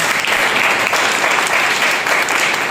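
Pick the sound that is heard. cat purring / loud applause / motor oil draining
loud applause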